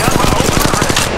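Rapid, loud, evenly spaced shots from an Auto Mastiff in the Apex Legends Mobile shooter game, firing around ten rounds in a quick automatic burst.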